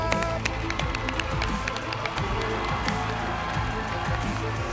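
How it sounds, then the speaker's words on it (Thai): A studio audience on a TV game show bursts into steady, dense applause for the challenger, with cheering and a lively crowd murmur throughout. "ขอเสียงปรบมือให้กับคุณนั"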